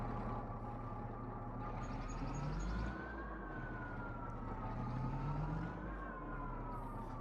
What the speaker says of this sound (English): Is it me or is this tractor loud tonight?